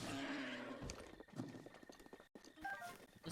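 Horses from the video game Breath of the Wild whinny and clop along, their game sounds loud and close, with several short bursts running over a busy background of in-game noise.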